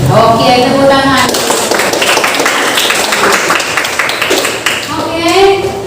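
A class of students claps together in a classroom, brisk rhythmic hand clapping mixed with children's voices, with a voice heard at the start and end.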